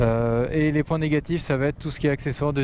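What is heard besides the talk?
No everyday noises stand out.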